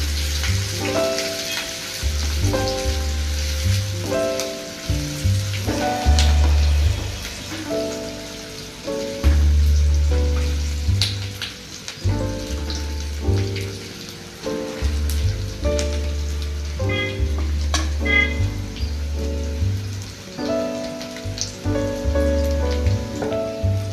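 Curry leaves and chopped ginger fry in a pan for Kerala-style inchi curry, a loud continuous sizzle broken by repeated scraping and clanking of a spoon as the mixture is stirred, with no talking.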